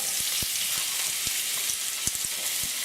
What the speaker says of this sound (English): We'll get a big sizzle here.